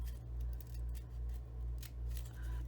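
Scissors make repeated crisp snips while trimming pink crepe paper around a craft heart, the cuts irregular over a low rhythmic hum from nearby.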